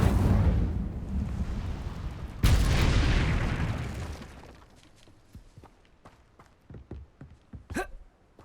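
A fire spell blasts out in Hogwarts Legacy with a sudden loud whoosh and crackling roar that fades over a couple of seconds, followed by sparse faint clicks and ticks.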